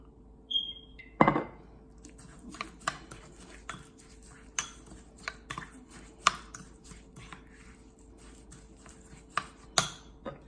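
Za'atar filling stirred with olive oil in a bowl, a series of light scattered spoon clinks and scrapes at an irregular pace in a quiet kitchen.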